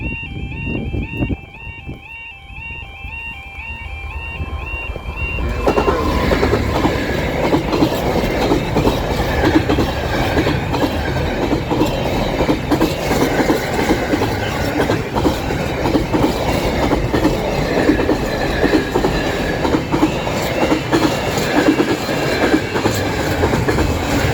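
An N gauge model train runs steadily along its track with a continuous rattling clickety-clack and rumble, close and loud, after a quieter start.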